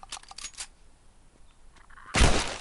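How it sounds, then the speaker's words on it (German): Pistol shots fired at a sniper in The Last of Us, a quick cluster of sharp cracks early on, then a louder burst of gunfire near the end, with no talking. "Den knallen wir, den Sniper mal oldschool mit der Pistole weg."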